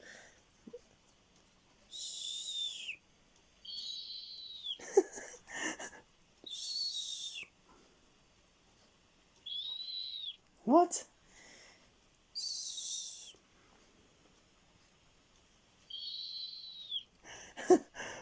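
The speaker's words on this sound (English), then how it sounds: "In defense, snowy owls will hoot, whistle, and hiss." A snowy owl gives a series of short, rising whistled calls and breathy hissing bursts separated by pauses, with a brief spoken voice between them.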